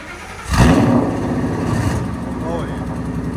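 A Ford Mustang GT with a 5.0L V8 and an aftermarket exhaust revs sharply once, a loud near blip that settles into a rumbling idle, with a voice speaking over it.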